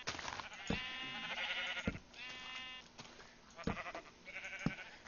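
Several Minecraft sheep bleat one after another, loud and close, with wavering drawn-out calls and brief pauses between them.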